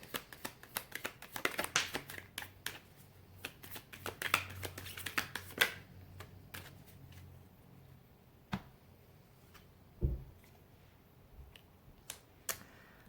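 Tarot cards being shuffled nearby: bursts of crisp riffling and sharp flicks early on, then sparser individual card snaps and taps with quiet pauses between.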